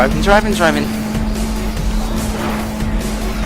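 Race car engine sound from the Need for Speed World video game, a steady drone with a constant hum and some tire noise, heard throughout with a voice talking over it.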